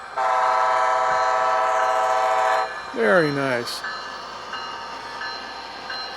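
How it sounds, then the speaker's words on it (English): Old and new BN trains moving through Seattle's Interbay yard: a sustained multi-tone horn blast, then a short bending whistle-like squeal, followed by quieter rumbling rail noise; a voice briefly speaks. "So you can see the old train is stopping and the new train is proceeding."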